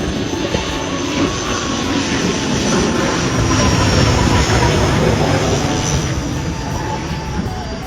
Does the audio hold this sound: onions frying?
no